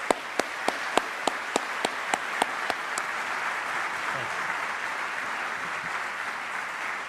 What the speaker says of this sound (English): I'd like to ask you to join me and give them a round of applause